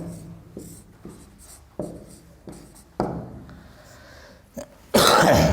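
A pen scratches across paper as a letter is handwritten, short close strokes in a halting rhythm with brief pauses, ending in a sudden loud burst of noise.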